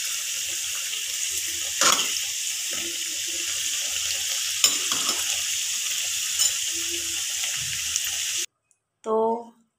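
Coconut-filled pitha fry in a pan of oil with a constant, bright sizzling hiss and a couple of sharp pops. It cuts off abruptly near the end, and a short voice-like sound follows.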